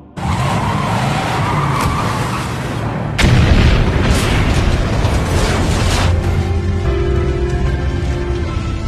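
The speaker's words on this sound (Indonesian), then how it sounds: "Kemudian dia membiarkan mobil itu melaju dan menabrak laboratorium dan menyebabkannya meledak." A car smashing into a laboratory and blowing it up in a film scene: continuous loud roaring and rumbling, a sharp heavy impact a few seconds in, then sustained explosive booming and debris noise.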